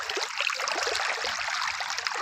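Water gushes steadily from a 5-inch irrigation pipe onto a wheat field, a close, continuous rushing and splashing flow.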